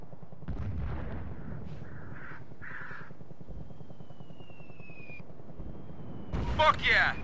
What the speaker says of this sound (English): I need HE scattered artillery 400 meters south of my position.